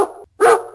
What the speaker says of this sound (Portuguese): Um cão, um cachorrinho, muito bem.